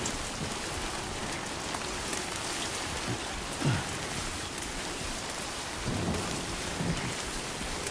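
Steady heavy rain with low rolling thunder in a Death Stranding 2 game scene, a continuous close downpour with a brief thunder rumble near the middle and another toward the end, no voices.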